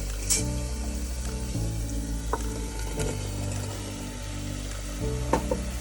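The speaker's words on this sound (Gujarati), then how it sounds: "હવે આપણે એમાં દૂધી નાખશું." Chunks of bottle gourd drop into a hot pan for chana dal and sizzle steadily, with several stirring or clattering knocks and faint splashy water sounds underneath, close by and moderately loud throughout.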